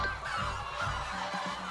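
A packed coop full of white silkie ogolgye chickens makes a dense, continuous clucking and honking chorus, many birds calling at once, loud and close with no talk.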